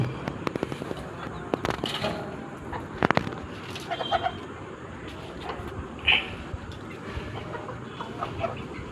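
Three free-range country chickens cluck at dusk in short, scattered bursts at a modest distance, with a few sharper calls and flutters against a quiet outdoor background.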